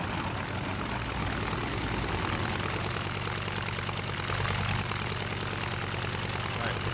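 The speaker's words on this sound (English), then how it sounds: "All right, potato fuel plane." A potato-fuelled plane flies in the video game Stranded Deep, a steady dense propeller engine drone that stays loud and unbroken throughout.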